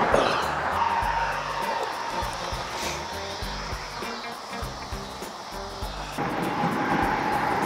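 Road traffic passing outdoors, a continuous rushing roar of vehicles with tire noise and engine hum rising and falling, loud and close throughout.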